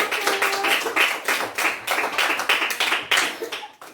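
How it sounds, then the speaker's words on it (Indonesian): A class claps in rhythm to applaud a presenting student group. The near, brisk claps form a steady patterned beat for several seconds, with no one speaking. "Tepuk tangan untuk kelompok 1."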